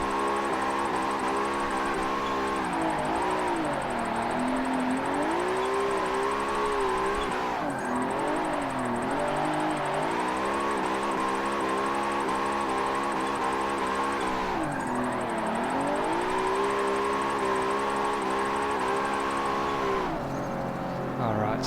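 An ESDA car engine drones and revs under load while being driven on a course, its pitch rising and dipping repeatedly through gear changes across about twenty seconds, loud and close, with someone talking over it.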